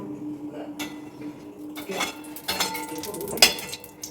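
A spoon scrapes and knocks against the inside of a nearly empty ghee container, a run of metallic clinks and scrapes that grows more insistent near the end, with faint background noise.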